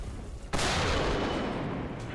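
A tank cannon firing in War Thunder, one sudden loud boom followed by a long rolling, fading rumble.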